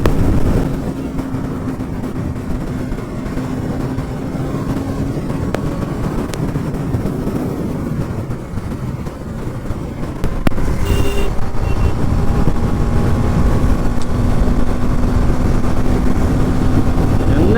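A Bajaj NS200 motorcycle runs at high speed on the Hassan highway in a drag race, a steady loud engine drone with heavy wind rush that grows stronger about two thirds of the way through.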